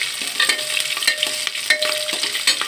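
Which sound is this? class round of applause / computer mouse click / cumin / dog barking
cumin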